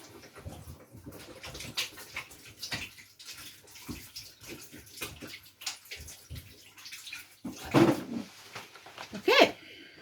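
Vegetables for veggie burgers are washed by hand under running water, with intermittent splashing and gushing bursts from a tap, fairly quiet and irregular, with a couple of louder splashes near the end.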